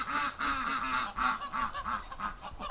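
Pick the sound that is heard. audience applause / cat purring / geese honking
geese honking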